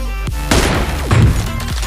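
A single M24 sniper rifle shot from PUBG Mobile cracks sharply at mid-clip and rolls into a boomy tail. Fainter impact thumps follow at a steady game-level loudness, with no talking.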